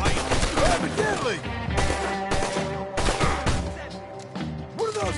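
Gunfire in the video game Red Dead Redemption 2, with loud, dense bursts of shots and crashing impacts filling the whole stretch, layered with game music and effects.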